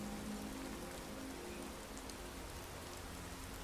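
Steady rain in the video game Skyrim patters continuously on a surface, a dense even hiss with no voices.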